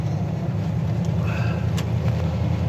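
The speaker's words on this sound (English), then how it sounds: "The sound of an old school V8 is something unique." Old Jeep J20 pickup with a V8 engine and mufflers idling or cruising, a steady low rumbling drone, close and fairly loud, with no talk.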